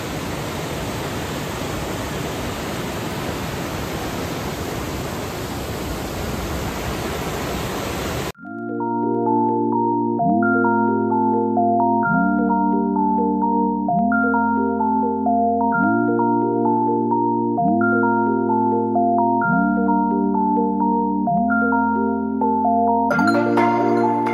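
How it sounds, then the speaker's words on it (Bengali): A waterfall in the hills near Kolkata gives a steady, loud rush of falling and flowing water for about eight seconds, then cuts abruptly to music with a repeating tonal pattern. "এখান থেকে জল পড়ছে, জল পড়ে সোজা এদিক দিয়ে অত দূর যাচ্ছে"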